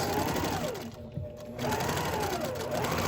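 A sewing machine runs steadily, close and loud, stitching a quarter-inch seam along a fabric face mask, with a brief slowdown partway through before it returns to its fast whirring.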